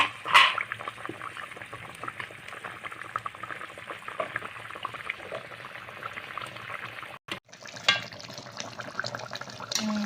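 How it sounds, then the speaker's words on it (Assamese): Fish curry bubbling in a pan, a continuous close boil with a dense watery hiss and small bubbling pops, with a brief pause near the end. "এই মাছ দি দিব অলপমান সময় উতলিব লাগিব"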